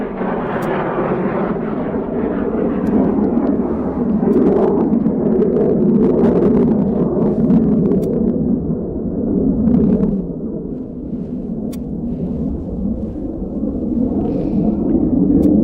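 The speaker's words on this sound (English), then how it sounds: "So currently we have a typhoon in the circuit, and we'll pick that up in just a moment." A Eurofighter Typhoon jet flies the airfield circuit, heard as a steady, loud, broad roar and rumble that swells and eases slightly over its full length.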